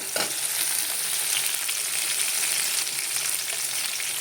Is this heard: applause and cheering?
no